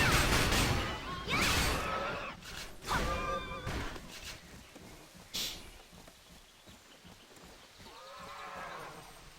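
A horse in a video game neighs and whinnies in several loud bursts over the first few seconds, then a softer whinny follows near the end, alongside some rustling movement and no speech.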